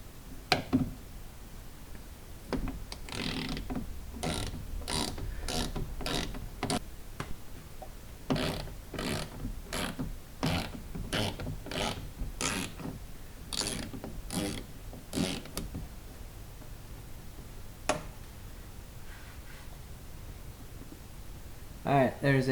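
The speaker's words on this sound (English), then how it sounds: "Just got to loosen all this up so we can remove that inner panel that's hanging this up in here." A T30 Torx driver ratchets bolts loose on a Kia Soul's inner panel during rear window work, with a long run of rapid clicking bursts, close and clear, broken by short pauses.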